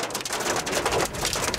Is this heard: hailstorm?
yes